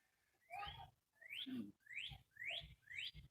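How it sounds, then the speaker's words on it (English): Birds calling outdoors: five repeated rising whistled chirps in a steady rhythm, fairly close but faint, with no voices. "I hope you're able to hear the birds around here."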